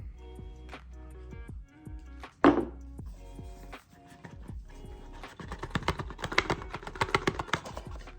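A Hot Wheels toy car blister package is cracked open by hand, with a sharp plastic snap followed by crinkling and rustling of packaging, close and moderately loud.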